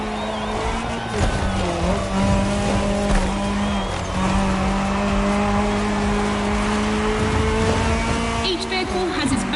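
Rally car racing on a dirt route in The Crew Motorfest video game, its engine holding a steady loud drone with a brief dip and shifts in pitch, backed by constant game noise.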